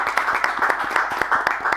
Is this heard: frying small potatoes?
no